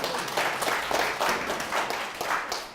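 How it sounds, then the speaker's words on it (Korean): An audience at a public lecture on public service in Yeongdeungpo-gu, Seoul, gives steady, dense applause that fills the whole moment with no talking. "박수 다시 한번."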